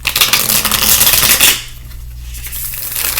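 Tarot cards being shuffled by hand, a dense, loud riffling rustle lasting about a second and a half, then quieter handling of the deck.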